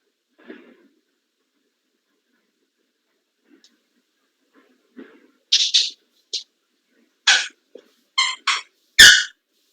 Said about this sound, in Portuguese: esse barulhinho aí é minha cachorrinha que tá apertando aqui o brinquedinho